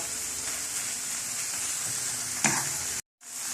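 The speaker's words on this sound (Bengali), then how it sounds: "এখন এগুলো আমি তেলের মধ্যে ভালো করে কষে নেব।" Spices fry and are stirred in hot oil for a cauliflower korma, giving a continuous close sizzle with a brief scraping stir near the end and a momentary cut to silence.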